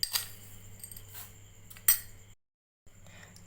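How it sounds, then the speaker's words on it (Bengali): Spoon clinking and scraping against a bowl while semolina, milk and sugar are mixed for motichoor laddoos, a few soft taps, then a brief pause before stirring resumes; quiet and close. "সমস্ত উপকরণটা ভালো করে মিক্সড করে নেব।"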